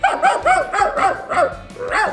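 A voice imitates a toy poodle, a little tiny dog, with about five quick, high yapping barks in a steady rhythm, each one short and sharp, close and loud with no other sound around them.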